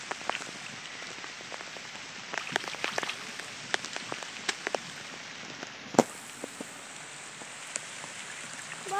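Light rain patters steadily on surfaces outdoors during a fishing outing, with scattered sharper drips and taps and no talk.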